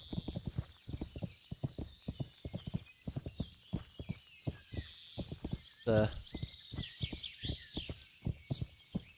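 Horse hooves clip-clop in a steady walking rhythm while riding in the video game Kingdom Come Deliverance, with a brief whinny in the middle and someone talking over the steps.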